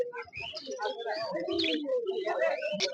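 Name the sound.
caged birds calling at a bird market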